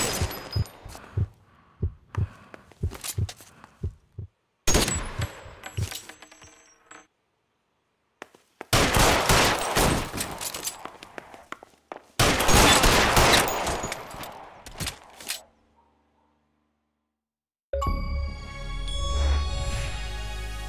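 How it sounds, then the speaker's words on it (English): Gunfire during a police shootout in L.A. Noire, coming as several loud, dense bursts of rapid shots separated by brief silences, ending in a steadier ringing sound. "Shots fired."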